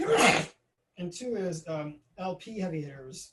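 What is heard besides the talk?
sneeze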